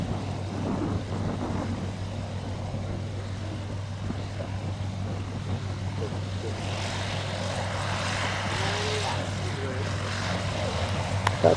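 The starboard engine of a Vickers Vimy biplane, the one that failed days earlier, drones steadily in heavy rain with poor visibility, a continuous propeller roar with a low hum and rushing noise throughout, no speech.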